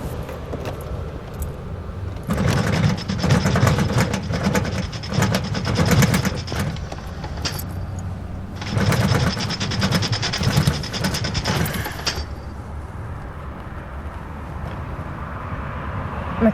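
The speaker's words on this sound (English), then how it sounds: "My car won't start." A car engine fails to start, its starter motor grinding and clicking rapidly in two long cranking bursts separated by a lull, with a quieter idle-free stretch afterward.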